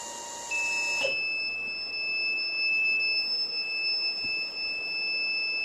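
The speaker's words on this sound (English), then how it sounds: "the motor will stop and the buzzer will start." An alcohol-detection safety system's electronic buzzer sounds with a sharp beep as the vehicle motor stops, then keeps up a steady, piercing high tone throughout, close and clear with no talking.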